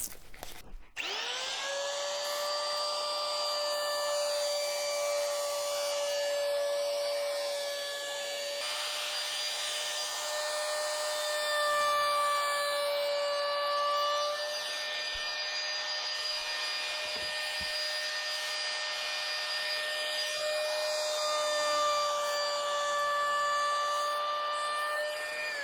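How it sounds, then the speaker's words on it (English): A palm router fitted with a 45-degree bearing-guided bit cuts a bevel into oak, giving a long, steady high-pitched motor whine with faint scraping and small dips as the cut moves along. "I've just got a 45-degree bearing guided bit in my palm router"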